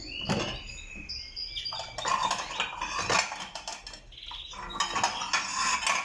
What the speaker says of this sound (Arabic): دوك نجيب تبسي